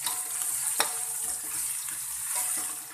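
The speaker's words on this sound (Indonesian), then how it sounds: "Kita goreng bumbunya bersama sebagian kresek udang ebi Injih" Spice paste sizzling in a pan with dried shrimp (ebi) for fried noodles, a steady close frying hiss with a few sharp crackles and light stirring clatter.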